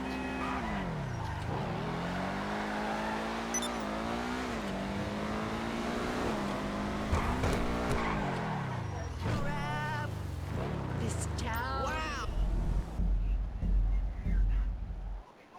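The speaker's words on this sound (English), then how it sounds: "This one, I love this car. It's just a race car." A race car in the game Grand Theft Auto V revs through rising and falling gear changes, then loud tire squeals wail in wavering bursts near the end, with a person talking over the engine.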